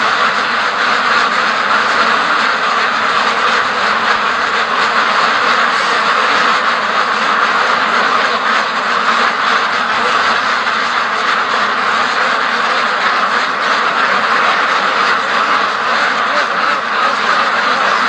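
Free-range ducks quack together as a flock in a loud, unbroken clamour that lasts throughout, mixed with blustery wind.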